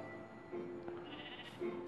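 A sheep bleats in the Minecraft video game, a few short, fairly quiet bleats heard alone with no talking.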